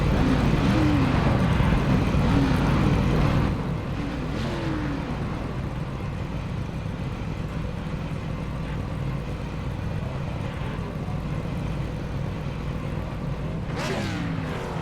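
Race cars roar steadily around Bristol's track at a distance, a continuous engine drone with occasional cars passing closer.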